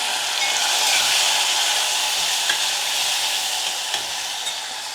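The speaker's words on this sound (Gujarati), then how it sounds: "તો મેં હિંગ નાખી દીધી અને મીઠો લીમડો નાખી દઈએ." Asafoetida and curry leaves crackle and sizzle in hot oil for a bottle gourd curry, a steady bright hiss of frying with a few small pops scattered through.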